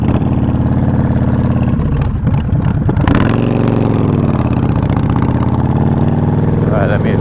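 A Yamaha Warrior 1700 V-twin motorcycle idles steadily up close, its loud pulsing thrum shifting pitch partway through as the idle is adjusted, with voices talking over it.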